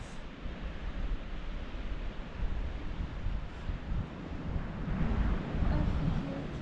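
Broad, steady rushing of surf on a deserted sandy beach by the dunes at Łeba, Poland, mixed with wind buffeting, swelling slightly louder toward the end, with no talk over it.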